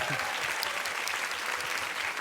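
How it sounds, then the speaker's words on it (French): Studio audience applause on a French TV family talent show, dense and bright clapping at full level across the short stretch, with voices faintly mixed in. "on vous applaudit"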